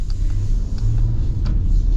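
2023 Jeep Grand Wagoneer Series III with the Hurricane engine accelerating: a loud, steady low rumble of the engine and road noise heard from inside the cabin, with no talk.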